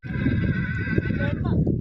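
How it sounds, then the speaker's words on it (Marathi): A horse gives a long, loud whinny that wavers and trails off near the end, heard up close over a low rumbling background. "घोडा कसा घोडा लागला"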